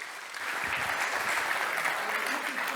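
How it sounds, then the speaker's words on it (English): Lecture audience applauds to welcome a speaker, a steady, moderately loud patter of many hands clapping that begins softly and fills out quickly, with a few low thumps mixed in. "So I want you to join me in a nice round of applause and let's welcome Lucas de Man"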